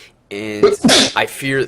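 A single sharp sneeze bursts out in the middle of a conversation, loud and close, with people talking just before and after it.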